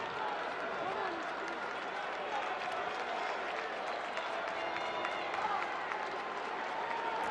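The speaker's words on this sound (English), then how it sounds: "Crowd trying to help him settle down here." A baseball stadium crowd claps and cheers steadily in the background, a broad continuous wash of applause with no distinct voices in front.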